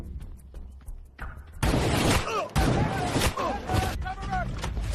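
Gunfire in a film about hunting a sniper: a run of sharp, loud cracks and booms with bursts of debris-like noise between them, and spoken voices over the shots.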